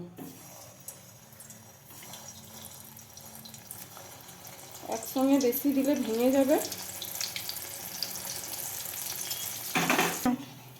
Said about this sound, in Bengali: আমি মিষ্টিগুলো ভেজে নেবো